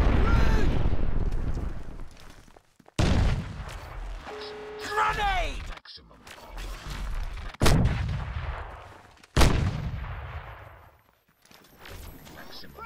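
Sharp gunshot cracks and heavy explosion booms, including a grenade blast, from the video game Crysis on a snowy multiplayer map, arriving in separate loud bursts with decaying tails and brief gaps between them.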